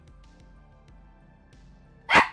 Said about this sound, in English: my doggo's in the background barking at me